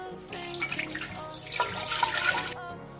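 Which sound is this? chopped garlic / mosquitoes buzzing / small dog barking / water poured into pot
water poured into pot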